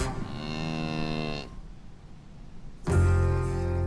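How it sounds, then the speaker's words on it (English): A cow moos loudly in a rural landscape, one long low call followed by a pause and then the start of a second bellow, close and strong with no speech. "the moo. How great is the moo? That's some natural sound there"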